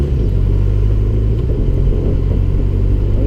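A 2013 Honda CB1100 motorcycle engine lugs in low gear around 1,000 RPM, a deep, steady, loud rumble with a throbbing low-end pulse and no speech.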